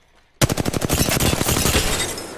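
Automatic weapon firing in Apex Legends during recoil training, a sudden loud burst of rapid evenly spaced shots lasting about a second, followed by a lingering ringing tail.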